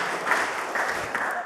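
Audience at a software conference talk on Qt Quick and OpenGL claps together, producing a steady, fairly loud rattle of many hands with a few stronger bursts and no voices on top.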